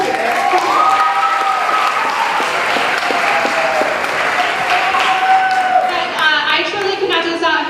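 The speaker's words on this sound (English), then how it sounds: "if you guys could just give him a round of applause" Loud school-audience applause at an elementary talent show, many hands clapping continuously for several seconds with cheering voices and some background tones, growing a little busier toward the end.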